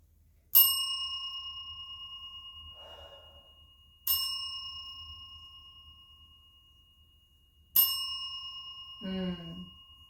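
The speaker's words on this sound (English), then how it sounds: "I'm going to ring the bell now." A bright metal bell is struck three times at even intervals, each ring sharp and clear before a long shimmering decay, with soft breaths heard between strikes.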